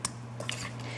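Glazed carrots tossed with parsley in a pan, giving a short run of faint utensil clinks and scrapes over a steady low kitchen hum, with no voice.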